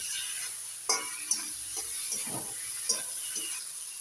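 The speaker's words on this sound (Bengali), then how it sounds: "মশলাটা একটু ভেজে নিয়ে দিয়ে দিয়েছি টমেটো" Spice paste of chilli paste and turmeric with tomato sizzles in a pan, a steady close frying hiss broken by a few sharp scrapes and clacks of stirring, with no voices.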